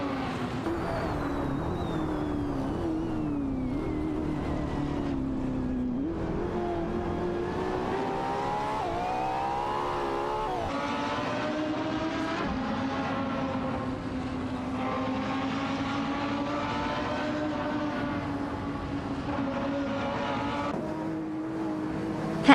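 Race cars, including a Ferrari F60 America, in a racing video game: a steady high-revving engine drone whose pitch climbs, dips and climbs again with shifts, continuous and loud throughout without pauses.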